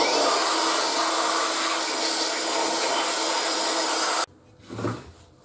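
A Dewalt DCW604 18V router being blown clean of dust with a loud, steady rushing blast of air that cuts off abruptly near the end, followed by a brief soft bump.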